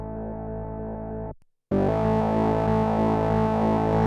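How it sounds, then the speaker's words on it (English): Electric guitar played through a gated fuzz pedal on a pedalboard gives a thick, sustained, heavily distorted tone that cuts to silence for a moment, then returns louder and fuller. "It's a preset amount of fuzz"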